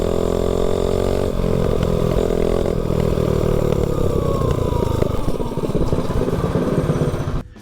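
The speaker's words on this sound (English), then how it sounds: "So the bike runs awesome and it sounds fantastic with that pipe. I really love that deep sound." A Taco 22 mini bike with a VM22 carburetor and an aftermarket exhaust pipe runs steadily nearby with a loud, deep, buzzing engine tone that shifts pitch slightly as the throttle varies, then cuts off abruptly at the end.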